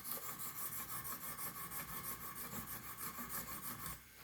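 A knife blade scrubbed back and forth on Wicked Edge Gen 4 sharpening stones, a fast, even rasping rhythm of close abrasive strokes, steady and quiet, with no talking.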